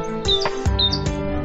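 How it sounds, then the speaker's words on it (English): A nightingale sings bright, rapid chirps and whistled phrases, close and clear, over a steady background. "Nightingale."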